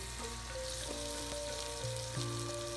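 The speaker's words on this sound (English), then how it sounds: "Then place the skewed beef onto the frying pan." Skewered beef for sate maranggi sizzles steadily in a hot frying pan, a continuous crackling hiss close up with light clinks of stirring, no talking.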